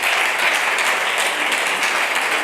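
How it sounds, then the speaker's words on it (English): A conference audience claps steadily and loudly as a keynote speaker is welcomed on stage, a dense, even wall of applause with no gaps. "That's the part where you applaud."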